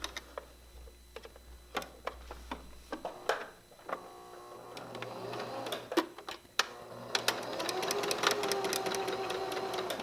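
A sewing machine stitches quilt strips with a fabric edge guided along the presser foot, starting with scattered clicks and taps, then settling into a sustained, fairly quiet mechanical whir.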